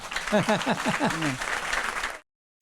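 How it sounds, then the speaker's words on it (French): Applause from a church service congregation mixed with raised voices and cheering, steady for about two seconds before cutting off abruptly. "applaudissez le Seigneur"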